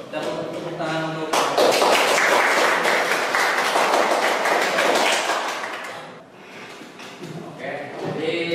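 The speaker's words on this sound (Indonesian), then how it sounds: "Kita tepuk tangan untuk" Classroom audience claps for a teacher's practice lesson: a burst of loud, dense applause starts after a moment of talk, holds for about five seconds, then fades, with voices speaking before and after.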